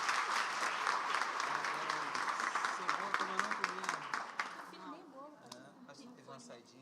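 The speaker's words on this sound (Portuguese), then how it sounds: "E vamos dar um aplauso a Jesus." A church congregation at a Sunday celebration service applauds, the clapping fairly distant and mixed with voices and musical tones, then thinning out after about five seconds as voices and an instrument carry on.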